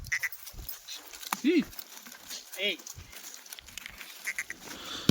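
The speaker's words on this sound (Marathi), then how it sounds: "हे बघा शेळ्या" Kathiawari goats bleat a few times from a livestock vehicle at a market sale, short wavering calls at close range, with quiet background noise and faint talk between them.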